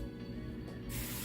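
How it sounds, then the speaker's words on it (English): A new spray bottle mists water onto hair during detangling, a soft, brief hiss that swells suddenly near the end over a quiet indoor background. "And I got a new spray bottle"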